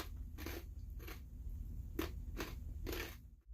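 Someone chews crunchy extra hot Doritos tortilla chips, close up and quiet. About five separate crisp crunches land at uneven intervals over a low, steady background hum.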